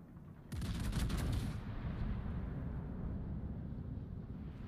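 A Tier 10 British Thunderer battleship fires a main-gun salvo in World of Warships: a loud, close blast erupts about half a second in, then a heavy rumbling roar rolls on and slowly fades, with no talking.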